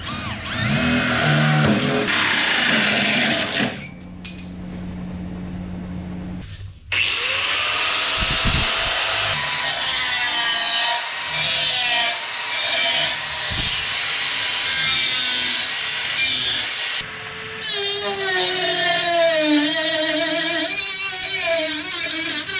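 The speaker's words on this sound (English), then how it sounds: "So we've got the hole drilled and our cap fits in really nice." A drill drives a 1.5-inch hole saw through a workpiece in long, loud grinding stretches, broken by short pauses and a quieter gap where the bit is lifted. The rasping, whining cut rises and falls in pitch as the pressure changes.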